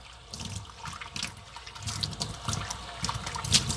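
Running tap water splashes steadily into a sink as an oil paint brush is rinsed after soap cleaning, a continuous close hiss with small spattering bursts and no talk.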